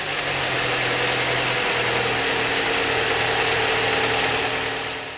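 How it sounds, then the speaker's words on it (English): A car engine running steadily at idle just after new NGK spark plugs are installed, a constant mid-range hum and vibration holding for about five seconds with no talk, fading slightly at the end. "we can then start the engine"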